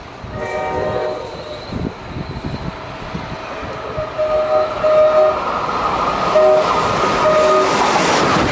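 A train rumbles past on the tracks at Mansfield during National Train Day, with steady rolling and rail clatter, and multi-tone horn blasts sounding repeatedly as it goes by, loud and close.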